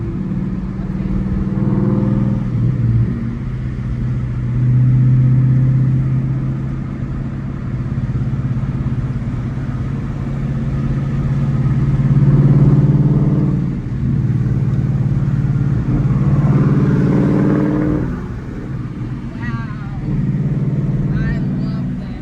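A high-mileage Ford Mustang Bullitt drives along, its engine giving a low, rumbling drone that swells and eases as it accelerates and settles, close and fairly loud, with a person talking over it.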